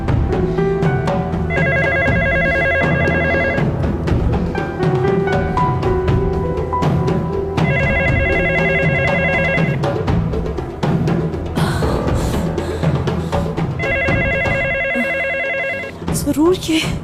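A telephone rings in three repeated bursts, each about two seconds long, in an indoor scene from an Urdu-dubbed drama series, with people talking between and over the rings.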